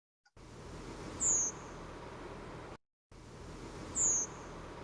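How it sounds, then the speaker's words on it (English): Redwing thrush giving its thin, high-pitched seep call in winter, two short single notes some seconds apart over quiet outdoor background hiss. "First, we have the redwing, which is the species also illustrated."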